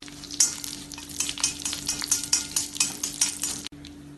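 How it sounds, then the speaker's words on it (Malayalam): Mustard seeds and curry leaves crackle in hot sesame oil while tempering a chutney, with a rapid series of sharp pops and spatters, some stirring clinks, and no voices. "എണ്ണ ചൂടാവുമ്പോൾ 1/2 ടീസ്പൂൺ കടുകും കുറച്ച് കറിവേപ്പില ഇട്ട് കടുക് പൊട്ടിക്കാം."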